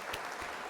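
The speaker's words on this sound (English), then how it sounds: "So let's hit some applause." Applause sound effect on a livestream, a brief burst of dense clapping that fills the whole moment at steady loudness.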